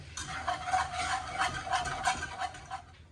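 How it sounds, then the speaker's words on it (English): A whisk scrapes steadily through a butter and flour roux in a pan, a quiet close rhythmic rubbing and swishing that continues evenly without talk. "Now I'm going to add 2 tablespoons of plain flour, just to make a basic roux. I'll whisk that together."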